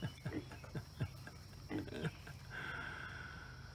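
Pigs feed in a trough, with one standing up in it, giving a run of short grunts and snuffling chomps in irregular bursts, close and fairly quiet, followed by a steadier wheezy noise.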